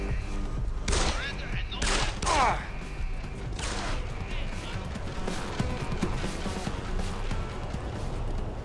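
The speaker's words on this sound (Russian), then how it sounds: "стреляют по мне, по мне стреляют, по мне стреляют" Gunfire in the video game Deus Ex: The Fall: a few loud separate shots, then a dense, continuous rattle of shooting. Someone talks over the shooting.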